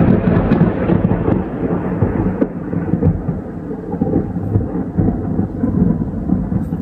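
Loud, continuous rumbling thunder rolls close by throughout a summer heatwave storm, a deep sustained roar with no voices over it.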